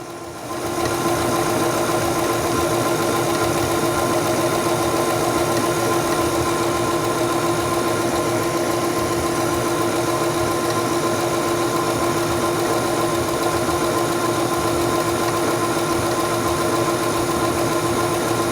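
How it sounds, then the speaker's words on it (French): A Singer Stylist 7258 sewing machine stitches fabric with a loud, steady, close mechanical whir and rapid needle chatter, starting abruptly and running continuously without pause. "abaisser le pied presseur et commencer à coudre"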